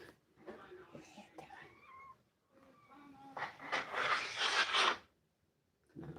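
An old cat meows several times, with drawn-out, wavering cries close by, while a person talks over and between them as treats are handed out indoors.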